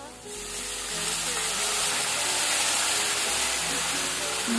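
Potatoes and vegetables simmering in a covered pan after a splash of water is added, a loud steady sizzle and hiss that swells after a brief start and continues evenly.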